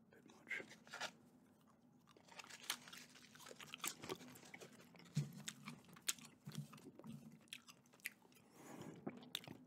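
Close-up gum chewing in an ASMR setting: soft, wet smacks and squelches repeat at an irregular pace throughout, quiet and intimate, with faint breathy sounds in between.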